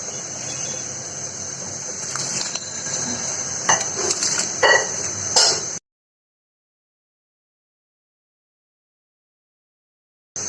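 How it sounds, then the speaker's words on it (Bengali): Washed rice is tipped into a pot with salt and oil while making fried rice with lemon leaves. Close wet clattering, scraping and splashing last about six seconds, then stop abruptly into silence. "ধুয়ে রাখা চালটা দিয়ে দিলাম"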